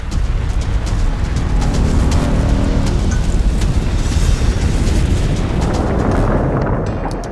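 Large volcanic eruption at Kirishima in Kyushu, heard as a continuous loud, deep rumbling roar with boom-like surges that holds steady throughout and fades slightly at the end, with no voices.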